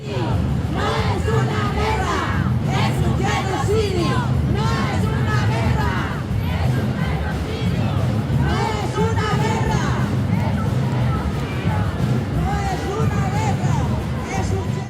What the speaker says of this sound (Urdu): مظاہرین نے شدید نعرے بازی کی